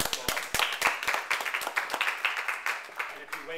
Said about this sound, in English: You better give him an applause.